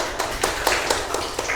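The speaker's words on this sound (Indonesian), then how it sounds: "beri tepuk tangan untuk kelompok 1" Short burst of audience applause for a student group at a school presentation, scattered claps rising and falling over a steady room noise.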